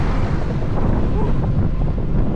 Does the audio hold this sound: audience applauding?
no